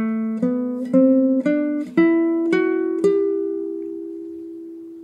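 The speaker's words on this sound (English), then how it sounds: "If we try to play this on a single string, it will sound like this." Six plucked notes climb a major scale on a single guitar string, one note about every half second, each sounding clear and close, with the last note ringing out and fading slowly.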